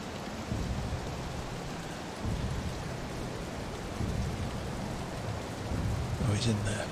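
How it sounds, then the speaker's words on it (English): Steady rain in the video game Sniper Elite, a constant broadband hiss that runs through the whole stretch, with a brief voice or effect near the end. "it's always bloody raining."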